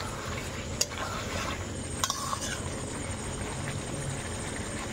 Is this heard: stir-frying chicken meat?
yes